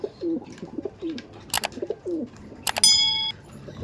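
Giribaj pigeons for sale cooing in soft, low repeated bursts, close by. Brief clangs and a ringing metallic ding cut in near the end.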